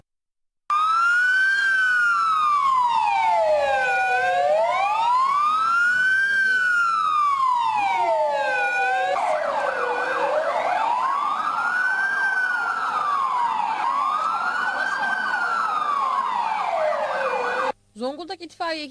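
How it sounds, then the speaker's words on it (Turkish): Emergency sirens wailing during a fire brigade rescue drill at a school, loud and continuous, rising and falling in long sweeping cycles with overlapping tones, then cutting off abruptly near the end. "Tatbikatta ilk olarak sirenlerin duyulması ile birlikte itfaiye ekipleri okula girerek öğrencileri kurtardı."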